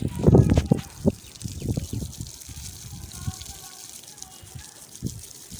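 Water from a motor-driven pump pours and splashes onto the ground for cleaning outdoors, a loud gushing at first that settles into a steady trickling wash with a few faint voices and clatters behind it.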